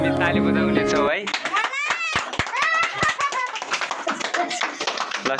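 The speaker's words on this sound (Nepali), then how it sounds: "फेरि पनि हामी ताली बजाउने छौँ है" After a brief musical tone, a congregation at a worship service claps hands in sharp, rhythmic beats, with voices and children's chatter mixed in.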